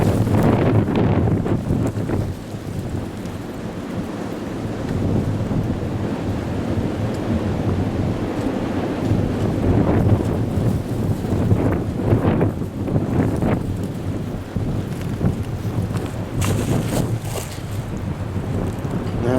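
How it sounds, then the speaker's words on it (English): Strong, gusting wind roars loudly and continuously outdoors on a very windy day, buffeting the microphone with heavy low rumble throughout, with no talking. "it went out with this extreme winds"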